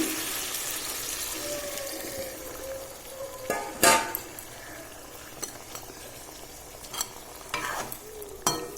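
Tengra fish curry stirred in a pan with a little added water, a soft simmering sizzle under intermittent scraping strokes of a spoon, with a few louder clattering bursts near the middle and end.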